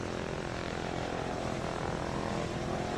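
Propeller aircraft engines in Arma 3 give a continuous, loud, buzzing drone that stays steady throughout, with no voices over it.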